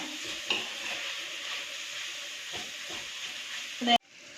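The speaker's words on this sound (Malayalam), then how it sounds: "പയ്യെ ഇങ്ങനെ ഇടയ്ക്കിടയ്ക്ക് ഇങ്ങനെ ചെറുതായിട്ടൊന്ന് ഇളക്കി കൊടുക്കണം." Crushed chicken cooking in a pan, stirred gently now and then over a soft, steady sizzle, with light scraping strokes and a brief louder scrape before the sound cuts off abruptly near the end.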